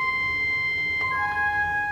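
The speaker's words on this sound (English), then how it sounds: "This is a principal 4-foot on the grate." Pipe organ principal 4-foot stop on the great, played at written pitch: a few bright, steady high-pitched notes with clean sustained tones and no talking.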